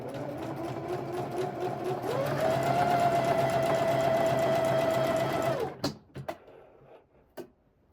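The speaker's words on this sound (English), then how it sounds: "Just start it at the top and just sew down at 3/8 of an inch." A sewing machine stitches a seam at 3/8 inch in a steady, fast whirring run of about five seconds that speeds up midway. It then stops, followed by a few soft handling clicks.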